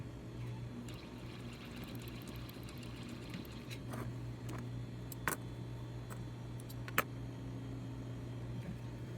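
A sewing machine hums steadily and close while stitching the crotch seams of small doll pants. It runs as a soft continuous drone with a few faint clicks, and no voice is heard.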